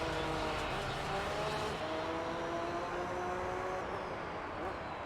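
Racing cars in Gran Turismo 3 during an LMP race drone steadily at a constant pitch, a continuous engine whine with rising harmonic tones, with a voice talking faintly underneath.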